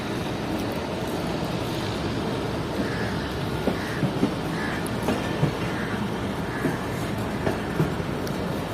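Hazara Express passenger train running on tracks, heard from inside a coach as a steady heavy rumble with faint rhythmic clacks of the wheels over rail joints, continuous and close.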